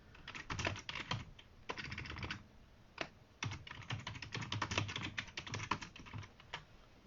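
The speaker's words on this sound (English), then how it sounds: "I'm just typing something." Rapid typing on a computer keyboard in a quiet room, with bursts of clicking keystrokes separated by short pauses over several seconds, fairly close and moderately loud.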